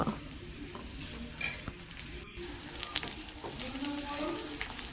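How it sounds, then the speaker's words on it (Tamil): Onions sizzle steadily in a hot pan while cooking a fish curry, with occasional stirring scrapes and a faint voice in the background. "வெங்காயம் வதங்கிடுச்சு"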